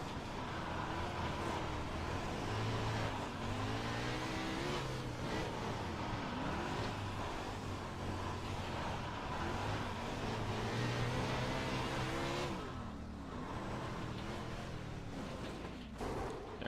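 Sprint car in iRacing at Kokomo, its engine roaring continuously and loudly as the revs climb and fall in rising sweeps, with a brief dip in the pitch near the end.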